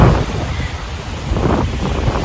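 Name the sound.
strong wind on beach with waves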